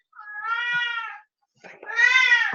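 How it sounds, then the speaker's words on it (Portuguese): A cat indoors in a home gives two drawn-out meows, close and fairly loud, separated by a brief pause. "Desculpa, eu vou pôr o gato lá fora."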